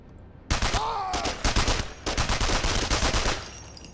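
Rapid automatic gunfire from a Russian Call of Duty-style shooter, loud, dense bursts of shots with brief pauses, and a short voice murmur near the start.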